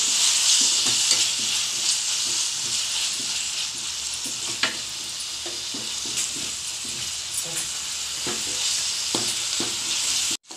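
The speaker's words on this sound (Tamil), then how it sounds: "இப்போ வெங்காய தக்காளி நல்லா வதங்கிடுச்சு." Onion and tomato sauté in a pan for chilli idli, a loud continuous sizzle broken by repeated light scrapes and clicks of stirring, with no one speaking.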